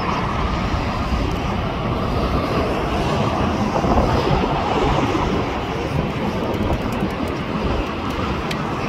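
A Lufthansa Airbus A340 jet airliner at LAX, heard from across the airport as a steady, loud, broadband engine roar that holds evenly throughout with no speech.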